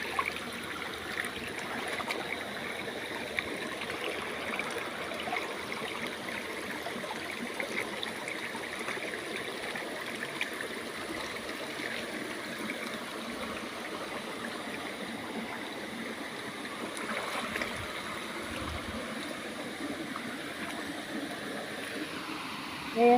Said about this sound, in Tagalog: Inagos kasi ayan po tubig, yung bukal oh.